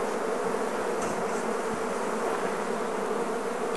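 Honey bees from an open Langstroth hive fill the air with a continuous, close swarm buzz, steady and unbroken with no voices.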